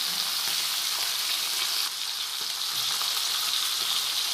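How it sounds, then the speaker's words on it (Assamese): A fish head frying in hot oil in an Assamese kitchen, giving a steady, close, dense sizzle with a faint crackle that holds evenly throughout, no voices. "এতিয়া প্ৰথমে ধুনীয়াকৈ মাছটো ভাজি ল'ব"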